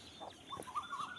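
A chicken clucks softly a few times in quick succession, faint and a little distant.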